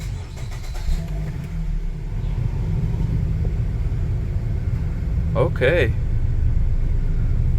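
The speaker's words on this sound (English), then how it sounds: "Let's start the car." A Dodge Dart engine starting and idling after a blower fan replacement, a steady close rumble that runs throughout, with someone speaking briefly over it.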